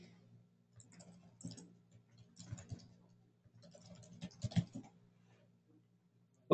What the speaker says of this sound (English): type in my credentials here.